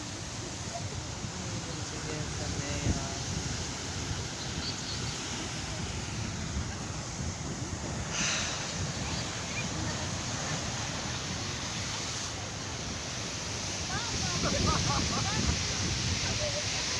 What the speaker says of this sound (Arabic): لا راه الماء البحر المواج